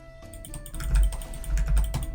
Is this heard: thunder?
no